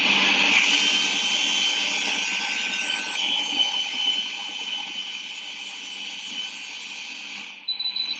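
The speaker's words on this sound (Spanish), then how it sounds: "vamos a ir con el microqueratomo, que generalmente suena así." Microkeratome cutting the cornea during eye surgery: a steady high-pitched motorized whine that runs continuously, then stops with a brief squeal at the end, close, with no talking.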